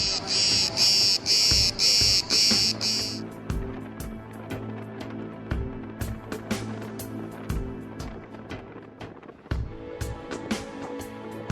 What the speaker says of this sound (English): that noise that's filling the background of all these enormous cicadas